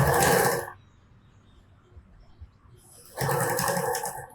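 A sewing machine stitching a cloth napkin holder runs in two loud, close bursts of rapid mechanical whirring, separated by a quiet pause of a few seconds.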